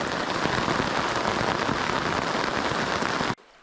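Steady rain pours down at a lakeside canoe campsite in St. Raphael, a dense continuous hiss of drops on surfaces that cuts off abruptly near the end.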